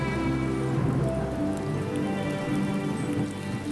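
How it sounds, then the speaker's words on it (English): Steady, dense rain pours over a forest in the Zoutpansberg during a spring storm, a constant close wash of drops hitting leaves and ground without pause. "With the arrival of rain,"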